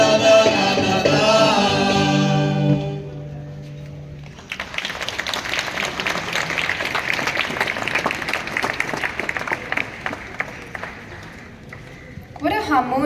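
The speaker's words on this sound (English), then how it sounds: "Let's show our appreciation for these incredible artists with a resounding round of applause" Audience applause after a musical performance at a school's Goa Liberation Day celebration: the singing fades out, then steady, dense clapping from a crowd takes over and continues for several seconds.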